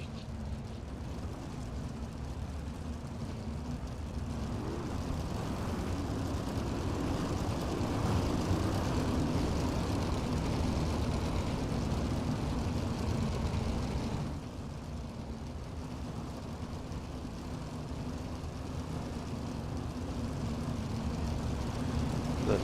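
Open-wheel race cars of the Hoosier Open Wheel Series roar around Charlotte in a steady, continuous engine drone with a slight swell, heard from a distance and without any speech.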